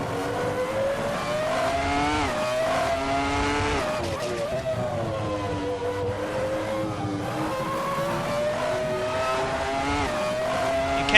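A Ferrari F310 Formula One car engine screams continuously in Assetto Corsa, its high revs rising and dipping through gear changes, loud and close throughout.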